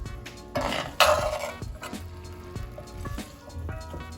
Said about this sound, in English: We're going to give this a nice saute for about 5 minutes, continuously stirring until the veggies are nice and soft.